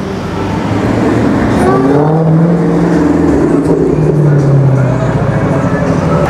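A car engine revs and roars up close at a nighttime car meet in Burlington, rising and falling in pitch over several seconds, loud and sustained with faint voices in the background.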